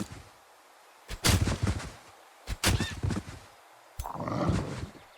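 Gunfire bursts from a fantasy strategy battle in Age of Wonders 4, three loud volleys with short gaps between them, the last one a longer rumbling crash.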